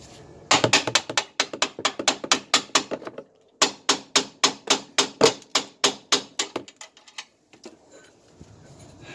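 Repeated hammer blows drive a punch through a rear suspension part on a 2004 Nissan Armada, about two dozen sharp metallic strikes in quick steady bursts with a short pause midway, close and loud.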